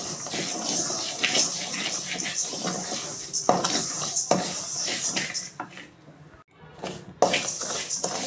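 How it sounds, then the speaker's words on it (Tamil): Idli rice dry-roasting in a kadai on the stove, giving steady scraping and clinking of a spoon against the pan with a gritty rustle of grains, continuous with a brief lull near the end. "வானலில் போட்டு ஸ்டவ் பற்ற வச்சுக்கணும் பொன்னிறமாக வறுத்து எடுத்துக்கணும் இந்த அரிசியை"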